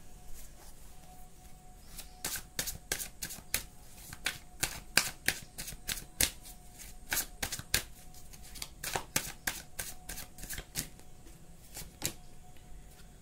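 Tarot cards being shuffled and drawn, a rapid run of crisp, distinct card snaps and flicks close up, fairly quiet against a faint background hum, with no talking.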